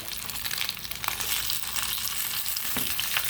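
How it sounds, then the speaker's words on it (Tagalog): Tilapia sizzling and crackling in hot oil, a dense continuous hiss with scattered pops, close by and steady. "Nagpiprito ako ng tilapia"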